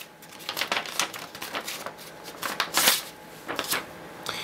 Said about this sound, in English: First step is to fold the computer paper in half.